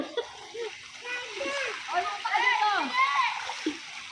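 A child splashing and swimming in resort pool water in Batangas, with bursts of splashing and sloshing under excited shouting and encouragement from nearby voices.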